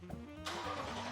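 A car engine is cranked and catches midway through, settling into a low, faint rumble inside a garage.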